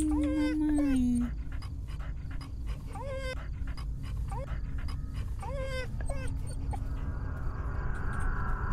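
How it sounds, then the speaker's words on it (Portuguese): A dog in the horror game Fears to Fathom: Carson House pants steadily and lets out repeated high whimpers, fairly close, over a constant low background hum, with no speech. "Esse cachorro é meio estranho."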